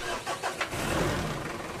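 A Mitsubishi Adventure engine cranking and catching, then settling into a steady, rough running drone at close range.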